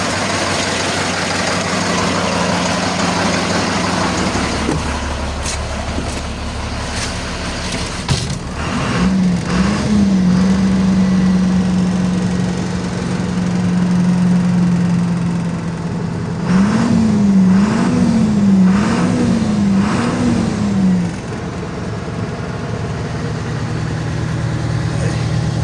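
A car engine idles with a low rumble, then gets two bursts of throttle blips that rise and fall, with talking in between.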